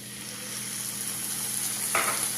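Water poured into a pan of sizzling fried spice masala for a quail egg roast, a steady close frying hiss that swells into a sudden louder burst of sizzle near the end.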